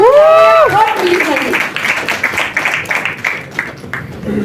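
A crowd at the BOYZ 3 trailer launch event bursts into loud applause after a brief amplified musical swell, the clapping and cheering rolling on steadily and then thinning toward the end.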